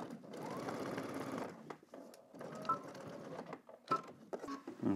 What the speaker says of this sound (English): let's head to the machine and stitch this